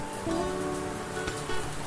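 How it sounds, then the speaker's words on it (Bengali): Heavy, continuous downpour seen from beside a room's window, a steady dense hiss of rain with a few gusts of wind, sustained throughout at moderate loudness with no talk. "মুসুলধারে একটানা বৃষ্টি হয়ে চলেছে"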